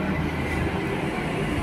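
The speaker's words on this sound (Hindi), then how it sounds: "फिलहाल हमारी मेट्रो आ चुकी है" A metro train pulls into a station near Sarojini market with a steady, loud, low rumble that fills the whole moment.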